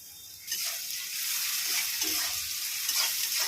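Chopped onions with crushed cloves, cardamom and cinnamon frying in a pan for an egg curry, a steady close sizzle that swells after a quiet start and runs on with no talk.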